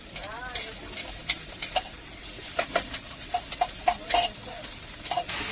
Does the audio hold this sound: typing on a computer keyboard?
no